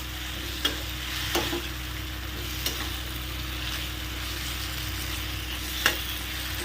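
Raw sweet pumpkin curry is sautéed and stirred in a pan with a soft, constant sizzle, broken by a few sharp spatula clicks.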